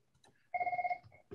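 A telephone rings with an incoming call, one short burst of rapid, warbling electronic trills at moderate level, with a faint click just before and after.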